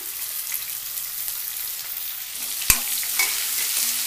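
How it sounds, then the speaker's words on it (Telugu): Chopped onions frying in a pan for a hotel-style poori curry give a steady, close, even sizzle, with one sharp utensil clack partway through and light stirring scrapes after it. "వేసేసి ఉల్లిపాయలు కొంచెం వేగాలి"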